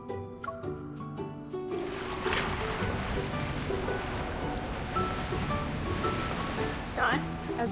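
Ocean waves wash in at a beach in a video game, a steady broad surf rush building after a quieter start, with soft music tones underneath.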